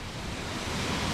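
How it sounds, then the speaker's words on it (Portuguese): Roadside waterfall near Paraty, Brazil, heard as a steady, dense roar of rushing water filling the whole clip without a break. "Olha essa cachoeira."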